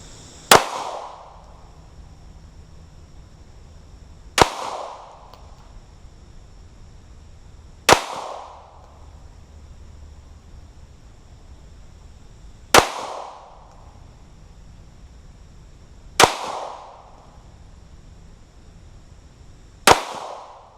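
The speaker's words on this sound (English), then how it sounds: "Alright, 8 rounds down range with the Glock." Six sharp, loud pistol shots from a Glock 43 fired at targets on a range, spaced several seconds apart. Each crack rings out briefly over a quiet background.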